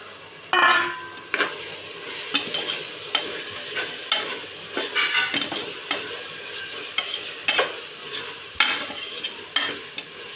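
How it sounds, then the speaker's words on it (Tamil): Whole spices fry in a pot for vegetable biryani while a spoon scrapes and knocks through them again and again. Sharp stirring clatters recur every second or so over a low background sizzle, close and clear with no talking. "இப்போ எடுத்து வச்சுருக்கிற மசாலா பொருள் எல்லாத்தையும் நம்ம கொட்டிடலாம். இப்போ நல்லா கிண்டி விட்டுக்கலாம்."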